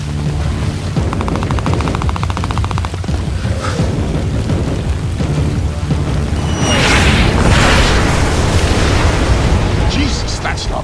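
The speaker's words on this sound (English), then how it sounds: "Jesus, that's not mortar fire. Sounded like Katushas." Katyusha rocket explosions in the Splinter Cell Blacklist video game: a dense, rumbling barrage of booms and crackling blasts builds and peaks loudly midway, layered over battle noise and game dialogue.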